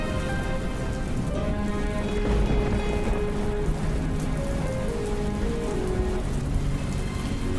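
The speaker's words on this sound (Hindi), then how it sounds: "ये बारिश तो रुकने का नाम ही नहीं ले रही" Steady, heavy rain falls hard on surfaces in a cartoon storm, a dense, continuous hiss and patter with a low rumble beneath and no voices.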